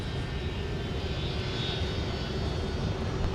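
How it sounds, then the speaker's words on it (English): Airliner taking off from runway 17 at Minneapolis–St. Paul airport in winter: a steady, broad engine roar holds at a fairly even level from a moderate distance, with no talk over it. "runway 17, clear for takeoff"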